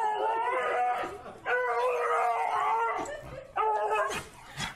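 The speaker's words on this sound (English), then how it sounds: "it's a little doggy coming in" A small dog arriving at an urgent care gives drawn-out howling whines in three close, loud bursts, with brief breaks between them.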